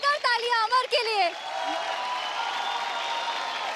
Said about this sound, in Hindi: जोरदार तालियां अमर के लिए।